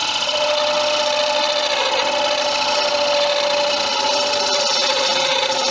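A woodturning gouge cuts a tamarind wood bowl on a lathe, producing a loud, steady, close hissing scrape with a constant whine from the spinning workpiece throughout.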